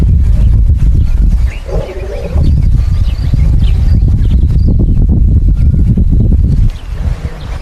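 A lion roars ahead on a live African safari drive, deep rumbling calls carried over heavy wind and vehicle noise.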